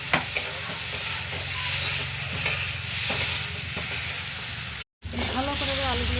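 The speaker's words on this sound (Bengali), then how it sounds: "এবার একটু ভালো করে একটু ভেজে নেব। দিয়ে দেবো কুচনো রাখা টমেটো। এবার আলুগুলো দিয়ে দেবো।" Chopped tomatoes and potatoes fry in a pan with a steady sizzle and hiss, broken by scraping stirs and a brief dropout, while someone talks in the background.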